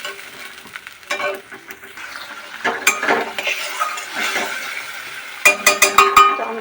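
Masala is fried and stirred in a pan for spiced eggplant (masala begun), with a continuous sizzle under irregular scraping strokes that end in a quick run of sharp clinks against the pan.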